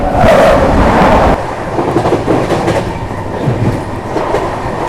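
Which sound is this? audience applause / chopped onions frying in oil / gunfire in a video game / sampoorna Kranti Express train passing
sampoorna Kranti Express train passing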